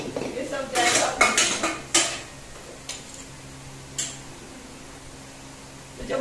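Dishes, pots and small spoons being handled and put away in a home kitchen: a cluster of bright metallic clinks and clatters early on, then a few isolated clinks against a quiet background, close by with no talk.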